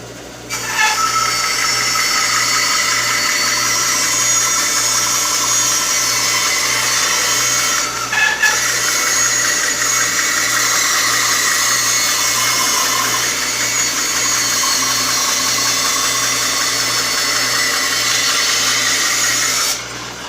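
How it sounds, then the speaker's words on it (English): A Delta band saw cuts through a wooden board, giving a loud, continuous, close whine and buzz that holds steady for about twenty seconds with one brief dip partway through. "let's cut off one more board and we'll see how this works."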